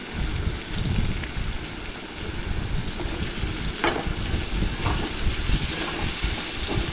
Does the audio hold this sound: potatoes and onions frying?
yes